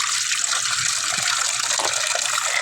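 Water gushes steadily from a tap into a basin, a loud continuous splashing rush that holds even throughout with no talking over it.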